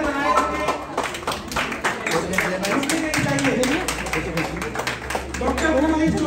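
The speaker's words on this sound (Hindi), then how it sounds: "तालियों की लहर बनाए रखे" People clap at a Holi celebration and award ceremony in Almaty, Kazakhstan, with brisk, repeated claps running throughout beneath a prominent voice or music.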